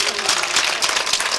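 Applause from a mushaira audience at a 2014 live show in Patiyali: a dense, steady wash of many hands clapping together, loud and sustained without a break.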